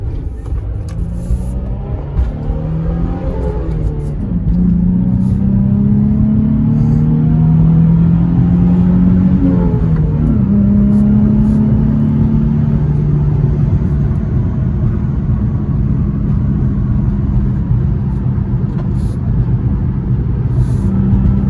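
A Nissan 350Z drives along with a loud, close engine rumble that rises in pitch through several accelerations before settling into a steady cruising drone.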